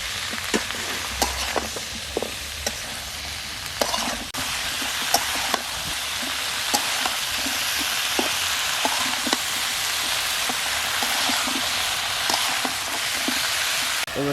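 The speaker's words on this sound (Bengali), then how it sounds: "সবজিগুলো একটু ভেজে নেব।" Vegetables fry in a pan with a steady, close sizzle that runs the whole time, broken by frequent small clicks and taps of stirring, with no talk.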